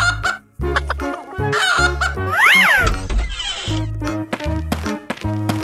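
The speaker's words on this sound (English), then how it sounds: "Chicken." A cartoon chicken clucks and squawks in short bursts over a bouncy children's music track, with one rising and falling squawk in the middle.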